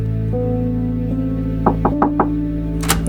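Knocking on a door, four quick raps followed by a fifth after a pause, crisp and fairly close over a steady droning background hum.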